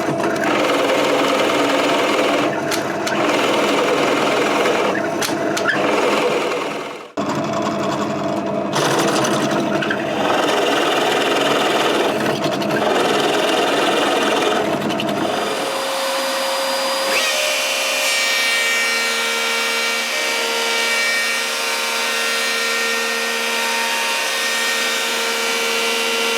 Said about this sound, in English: over to the drill press and start hogging out this material